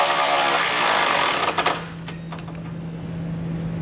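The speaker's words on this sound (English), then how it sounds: "you can then come back with a 19mm socket and tighten up the bolt" A ratchet turns a 19mm socket to tighten a bolt while a Roadmaster crossbar-style base plate kit is installed on a 2019 vehicle. A loud burst of tool noise is followed by a short run of close, crisp clicks, then a quieter background.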